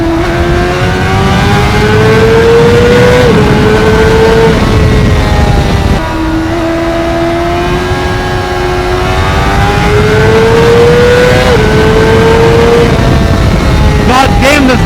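A Honda CBR600RR sport motorcycle's engine revs high and climbs through gears on a ride, pitch rising then dropping at shifts, loud and constant under wind rush.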